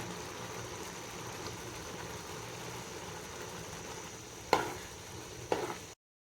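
Quiet, steady sizzling of eggs frying in butter in a pan, with a couple of sharp scrapes of a utensil stirring near the end.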